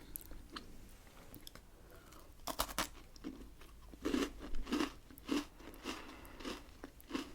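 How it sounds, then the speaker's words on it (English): Close, crisp crunching of a biscuit with peanut butter being bitten and chewed, several sharp bites and crackly chews in an uneven rhythm against a quiet background, with no talking. "it's a good crunch."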